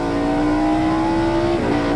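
A NASCAR stock car pulls away from its pit stall after a quick 1996 pit stop, its loud engine drone holding steady and then dropping briefly near the end, close and unbroken.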